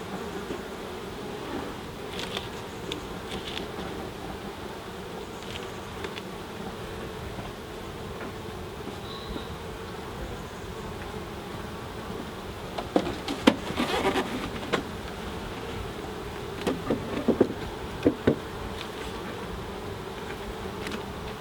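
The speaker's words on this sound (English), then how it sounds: "these few bees here will run down and go in there eventually" Honey bees buzz around a newly hived nuc, a steady low drone throughout with occasional louder passes close by and some handling knocks later.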